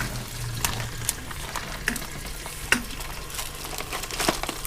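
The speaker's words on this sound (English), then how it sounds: "You can hear the sizzle when they hit the bottom of the pan." Marinated turkey tenderloin sizzles and crackles in a hot pressure cooker pot, with sharp pops and spitting bursts breaking through a steady frying hiss.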